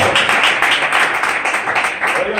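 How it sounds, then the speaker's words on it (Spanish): Congregation in a church clapping together in a dense, sustained burst of applause, fairly close and loud, with a voice faintly mixed in. "¿Cuánto le dan un aplauso al Señor, hermano?"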